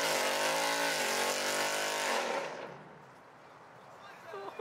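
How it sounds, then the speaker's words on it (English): A Mopar car doing a burnout at a Houston Coffee and Cars meet roars with a loud, sustained engine rev, then fades into crowd noise with people talking nearby. "Mopars do the best burnouts."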